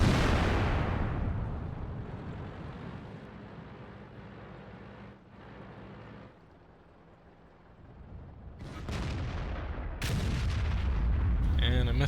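A tank cannon shot from the FV215b in World of Tanks firing HE shells in a hidden village map: a loud opening boom decaying over several seconds, followed by later sharp impact bursts.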